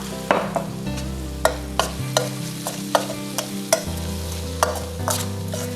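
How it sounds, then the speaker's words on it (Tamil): Onions stirred into cooked vegetables in a hot pan for gobi manchurian fried rice, a brisk series of spatula scrapes and clacks over a steady sizzle and stove hum, close and clear with no talk. "இது கூட இந்த வெங்காயத்தால் போட்டு லைட்டாக வதக்கிக்கலாம்"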